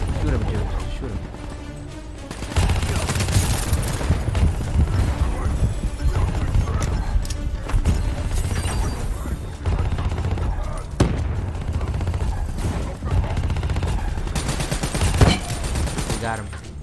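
Gunfire in a Call of Duty Black Ops 3 campaign fight crackles in loud, rapid bursts over heavy game noise and mechanical clatter, with players talking excitedly over it.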